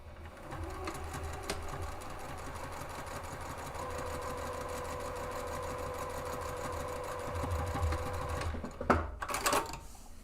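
A sewing machine stitches a seam on a two-way divided fabric caddy, a steady continuous motor whir running for about eight seconds before a few brief bumps and clatters at the end.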